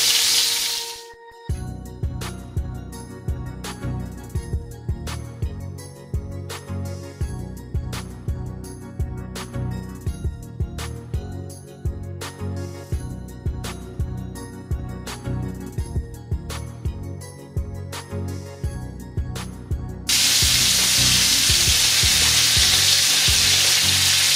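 Meatballs sizzle and spit in hot oil in a pan, a steady loud frying crackle with rhythmic pops as they are turned, swelling into a broader hissing roar near the end, with no talking.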